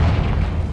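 Confringo blasting spell exploding in Hogwarts Legacy, a sustained deep booming roar with heavy low rumble lasting under a second, loud and steady without a clear sharp onset.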